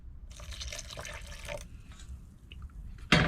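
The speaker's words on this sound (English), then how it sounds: "so I'm going to add a little bit more liquid." Liquid poured into a pot of thick leek and potato soup while cooking on a narrowboat, a faint splashing trickle for about a second and a half, followed by quieter drips and a brief clatter.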